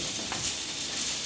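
Pieces of fish go into a simmering fish curry, giving a steady, soft hiss and faint bubbling sizzle for about a second with no voices over it.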